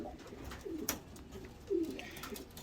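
Faint soft coos from a racing pigeon in a quiet loft, two brief low calls about a second apart over light background noise.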